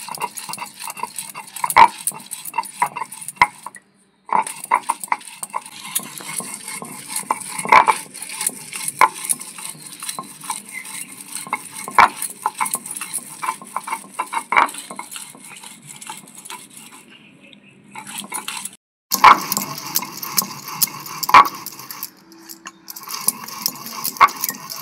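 Fried ingredients ground on a shil-nora grinding stone: steady rhythmic scraping and grinding strokes, close and fairly loud, continuing with two brief pauses and no talking.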